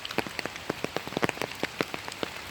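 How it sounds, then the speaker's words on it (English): Rain falls steadily on a hard surface, with close, irregular drops pattering and tapping at a moderate volume over soft background wash, no voices present. "It took so long for the rain to come. I'm so thankful and grateful that it's here."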